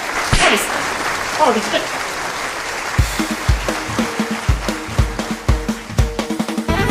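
An audience at a staged comedy show bursts into applause for a performer, starting as a noisy wash and settling into loud, steady rhythmic clapping.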